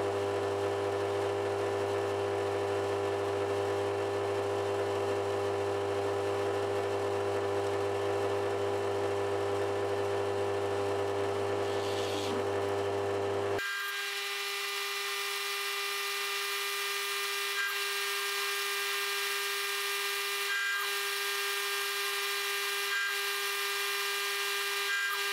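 A steady electric drill whirs continuously, boring 5mm holes in a monitor wall bracket, with a sustained motor tone changing pitch partway through as the bit works, loud and close with no talking.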